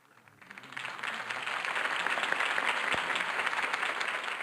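Applause from a large crowd in the video game Batman: The Telltale Series swells in after a quiet start and holds steady as a dense, continuous wash of clapping.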